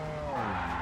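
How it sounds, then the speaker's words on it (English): A school bus drifting in the BeamNG driving game, its tires skidding in a short, steady, loud squeal over the engine, heard without talk. "Try to drift this a little bit."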